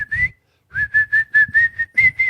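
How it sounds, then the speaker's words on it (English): A person whistles a short tone, pauses, then a run of quick, evenly spaced whistled notes at a steady pitch, close and clear. "Why are you whistling?"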